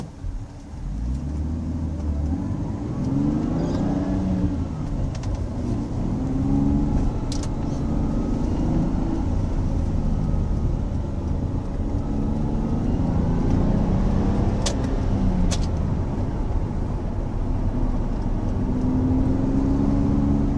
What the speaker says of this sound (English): the car sounds really nice when you accelerate